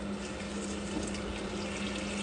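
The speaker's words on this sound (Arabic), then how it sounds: "حطوا عليها الموية وخلوا لين تستوي الدجاجة." Water pours steadily into a cooking pot over chicken, a continuous soft splashing rush with a faint low hum, unbroken from start to finish.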